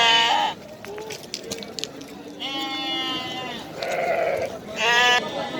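Young rams bleat at a livestock market in Osh, several wavering calls close by, one after another over a steady crowd murmur, with people talking in the background.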